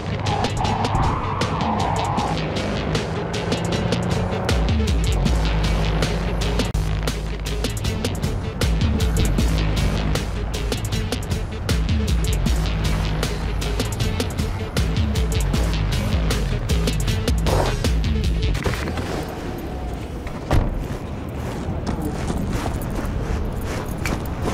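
A rusty old car's engine runs continuously in the Cyberpunk 2077 video game, a loud, close, rough rumble with rapid ticking and rattling over it, plus a brief sharp clunk near the end.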